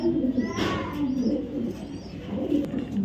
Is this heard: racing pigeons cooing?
yes